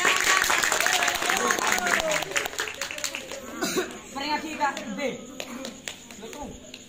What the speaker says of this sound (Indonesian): Tepuk tangan berikan.